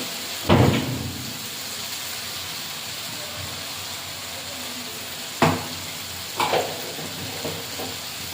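Fried potatoes and salt tipped into a pan of sizzling spice masala for a Bengali shol fish kalia, with a steady frying hiss and a few sharp clattering thuds as the ingredients drop in and get stirred.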